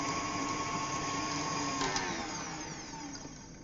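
An electric whisk beats egg whites in a bowl, a steady high motor whine that holds evenly, then gradually slows and fades toward the end.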